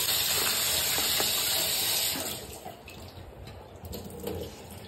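Running water from a tap splashes and hisses steadily over a refrigerator tray being rinsed in a home sink, loud at first and then softening with light clatter as the tray is moved under the stream.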